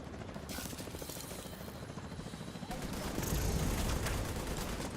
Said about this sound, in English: The chopper's coming in.